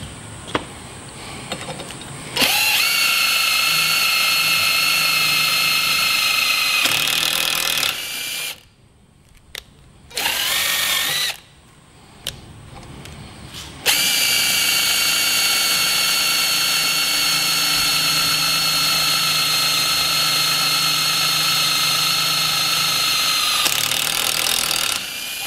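A cordless drill spins a thread-cutting tool clamped in a vise, whining loud and steady in long runs with a high tonal buzz, broken by brief stops and a short burst in the middle.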